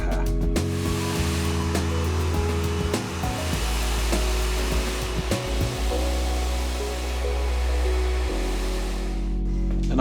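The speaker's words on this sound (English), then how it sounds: "So I'm going to start the blow dry with a smoothing brush." Hair dryer blowing steadily during a blow-dry with a smoothing brush, a loud continuous whoosh that shifts in pitch as the airflow is moved around, with no talking.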